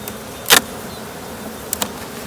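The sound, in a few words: honeybees buzzing around a hive while pulling supers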